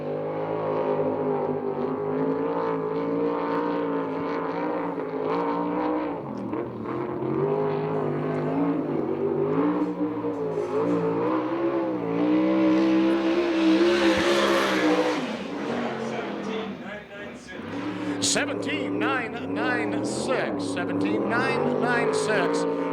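Several USAC/CRA sprint cars circle a dirt track in Tucson, engines dropping off from speed as they come down for the green flag, producing a continuous loud, wavering roar with shifting pitch under steady announcer talk.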